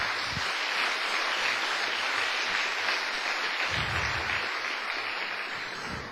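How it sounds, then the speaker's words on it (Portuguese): A church congregation at a pastors' meeting claps together for Jesus, a dense, steady roar of applause filling the room and holding level throughout before easing slightly at the end. "Quem pode dar uma salva de palmas para o Senhor Jesus?"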